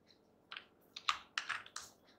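An npm install command being typed into a computer terminal: a short burst of about eight to ten crisp, close keyboard clicks in an uneven rhythm, heard alone in a quiet room.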